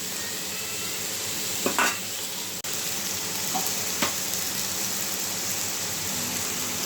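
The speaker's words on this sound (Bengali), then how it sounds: "তরকারিগুলো একটু ভাজা হোক" Vegetables for a taro-root dish frying in a pan, a continuous close sizzle with a couple of brief utensil clinks and scrapes over it.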